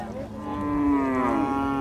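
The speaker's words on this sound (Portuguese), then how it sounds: "Olha lá, esse é o boi." A bull moos at a cattle fair in Cachoeirinha, Pernambuco, one loud, drawn-out bellow that swells and slides down in pitch, heard alone over faint crowd murmur.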